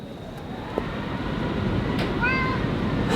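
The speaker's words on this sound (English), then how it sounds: "Look, it's a cat." A cat gives one short, clear meow near the end, moderately close over a steady low rumble of background noise in a woodland cabin.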